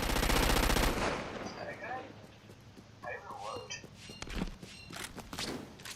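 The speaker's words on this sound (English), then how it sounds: "That nearby gun turret would cut the enemy to ribbons" A gun turret fires in the video game Crackdown 2, a loud dense rapid burst that stops after about a second, followed by scattered thuds and impacts while a voice speaks over the game.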